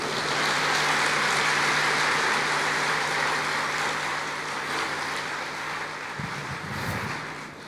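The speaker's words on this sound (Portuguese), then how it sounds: "Você pode aplaudir o Senhor, querido?" Church congregation applauding, a steady dense wash of clapping that fills the whole stretch, easing slightly toward the end with a brief low rumble near the close.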